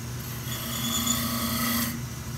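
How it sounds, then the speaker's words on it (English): A spindle roughing gouge cuts a spinning wooden top on a lathe, giving a steady rasping scrape over the lathe's hum for a couple of seconds at close range. "This is a spindle roughing gout."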